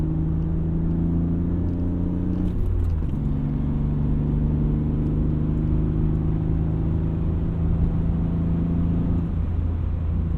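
BMW E36 M3 engine droning steadily from inside the car as it gathers speed, with a brief break and pitch drop like a gear change early on before the hum settles and climbs again.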